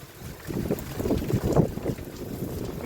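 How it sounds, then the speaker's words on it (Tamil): Gusty wind buffets the microphone in a low, rumbling roar, swelling and easing over a few seconds with a faint watery background of rain and a small flooded stream nearby. "காற்று அடிக்குது"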